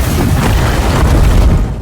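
A loud, rumbling explosion roars with heavy low booming that sustains and churns before fading slightly at the end.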